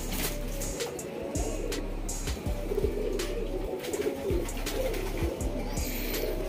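Pet pigeons cooing in a loft, low soft coos repeating through the clip over a steady low hum, with a few sharp taps and rustles nearby and no talking.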